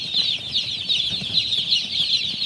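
Crowd of day-old chicks on a farm chirping continuously in a dense, high-pitched peeping chorus, close and fairly loud, with no voices.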